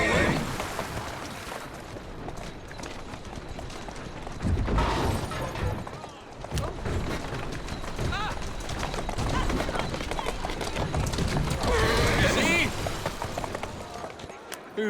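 Horse hooves galloping in the Assassin's Creed Syndicate video game, a fast drumming run on city streets with wheels and wind rushing, under steady game sound and a voice talking.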